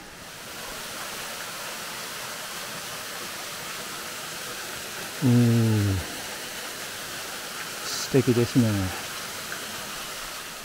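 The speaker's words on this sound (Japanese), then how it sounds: "滝のようですね。" A waterfall called Meidai no Taki on an Okutama mountain trail gives a steady, broad rushing wash throughout, with brief speech and a short vocal sound breaking in over it.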